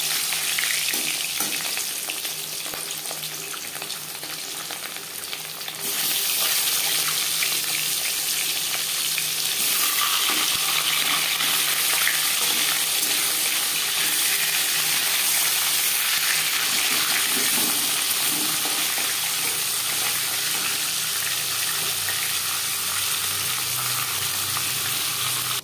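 Marinated fish fries in hot refined oil in a pan, a loud continuous sizzle that jumps sharply in intensity as the pieces go in and then holds a steady crackling hiss.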